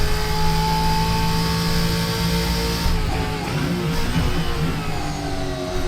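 A car engine in a racing simulator game drones under steady throttle, holding a loud sustained tone with slight pitch shifts, heard alone with no talk.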